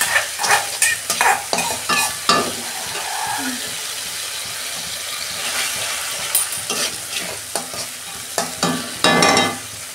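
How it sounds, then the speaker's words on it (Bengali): Chana dal, elephant foot yam and potato fry with turmeric in a pan. Rapid bursts of spoon stirring and scraping sound over a steady sizzle, with a quieter stretch midway and another burst near the end. "আমি আর 2 মিনিট ভালো করে কষাবো।"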